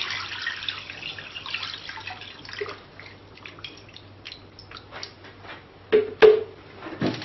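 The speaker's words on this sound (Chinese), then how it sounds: "再倒入清水" Clean water is poured into a pot of duck meat in a home kitchen, a soft, steady splashing stream with a few louder sloshes near the end, close and alone.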